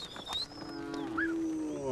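Cattle in Tanzania mooing close by, a few drawn-out low bellows with rising and falling tones, loud and clear with no talk over them.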